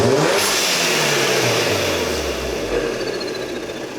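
A car fitted with an APR open carbon fiber intake revs hard, its loud engine note climbing and falling in a sustained roar with strong intake whoosh, close and continuous throughout.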